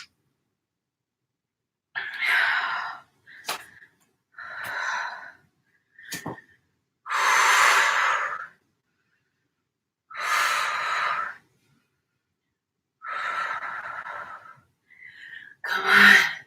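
Heavy, effortful breaths during a leg workout, loud close exhales and gasps in bursts separated by silent pauses, with no talking.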